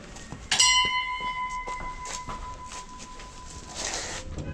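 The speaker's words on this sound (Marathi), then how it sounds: "बहुत जोर से घुमाया तो घंटी बजेगी" A sharp bell strike from a spun prayer drum rings out near the start, its clear tone sustaining and slowly fading over several seconds against faint background noise. Recorded in Tawang, Arunachal Pradesh.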